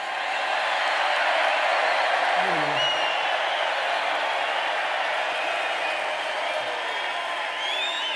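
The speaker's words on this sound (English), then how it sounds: "This is a feisty little crowd" A crowd at an outdoor political rally in Pennsylvania cheers and applauds in a steady, wide roar that lasts throughout, with a voice faintly audible among the noise.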